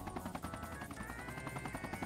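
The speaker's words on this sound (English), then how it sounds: "Oh, we're on a helicopter now." Helicopter in the Sonic Generations video game, a steady rhythmic rotor chop with engine whine, continuous and fairly faint, with no one talking over it.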